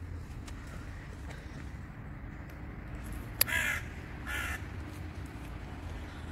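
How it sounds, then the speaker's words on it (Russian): A crow caws a couple of times at a moderate distance, standing out over steady low traffic rumble on a street in an old Dutch town. "Ворона."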